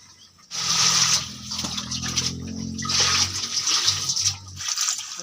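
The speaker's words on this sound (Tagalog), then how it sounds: "Hugasan na to ang pako" Water gushing from a tap as fiddlehead fern is washed, a steady close splash and rush that stops briefly midway and then resumes.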